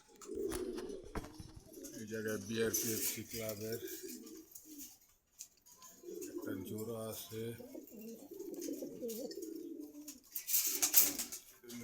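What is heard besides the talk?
pigeons cooing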